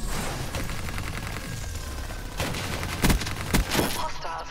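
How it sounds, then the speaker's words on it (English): Rapid gunfire from a sentry gun in a first-person shooter game, sounding as a dense stuttering burst through most of the stretch, with several sharper, louder shots near the end. "That sentry gun took my Talon out quickly"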